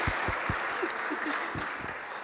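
Audience applause for a county sheriff walking up at a community safety meeting, a steady, moderately loud wash of clapping from a room full of people, with a few distinct nearby claps standing out.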